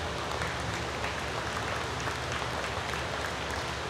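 Sustained round of applause at the 2017 Wisconsin State Red & White cattle show, an even, continuous wash of clapping from a crowd heard at moderate distance in a large hall.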